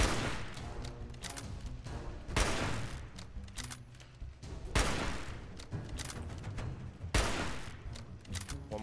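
Gunfire from a turret in the video game Fallout 4: loud, rapid automatic bursts with sharp individual shots and heavy impacts, recurring in several intense volleys.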